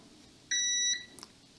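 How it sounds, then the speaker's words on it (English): Proster budget multimeter's continuity buzzer, a bright electronic tone beeping once for about half a second, then starting again briefly at the end, close and clear in a quiet room. "that's like a speaker symbol, sound buzzer symbol"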